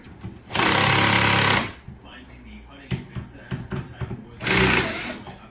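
Small half-inch screws being driven into the cabin front panels of a micro tug model with a power driver, two loud whirring bursts separated by quieter handling knocks.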